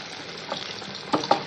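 Onion vada dough balls fry in hot oil with a steady, close sizzling hiss, broken by a couple of sharper crackling bursts near the end as more batter goes in.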